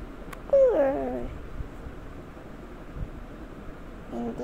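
A cartoon kitten in a Toca Boca game gives one short, rising-falling meow near the start, clear and close, followed by a quiet background hum.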